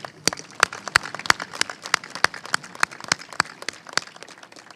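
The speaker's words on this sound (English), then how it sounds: "Let's give them a round of applause." An audience claps in a loose, sparse patter of individual hand claps, fairly quiet and steady, heard without any talking over it.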